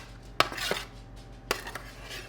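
Roasted vegetables are dropped into a dish with two sharp clatters a second apart, each followed by lighter clinks of the pieces settling, near and quiet.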